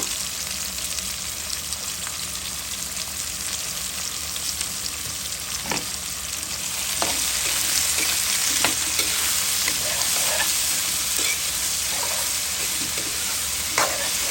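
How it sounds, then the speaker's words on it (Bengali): Potatoes and whole green chillies frying with onions in a pan, a continuous crackling sizzle that grows slightly louder partway through, with occasional spoon taps and no talking. "ভাজা ভাজা হতে থাক পেঁয়াজের সাথে।"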